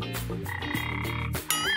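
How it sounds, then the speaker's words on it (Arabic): A frog croak sound effect rings out in a series of repeated, loud, close croaking bursts with warbling pitch, alone with no talk. "يبدو كنقيق ضفدع"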